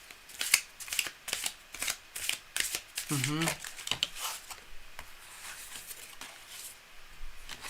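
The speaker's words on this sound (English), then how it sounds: "the cards are flying around the place. They've got a little bit of a curve in them. Can you see that? It makes it a little tricky to shuffle." Tarot cards being shuffled by hand, slightly curved cards riffling and slapping in repeated quick bursts close up, with a person talking over them.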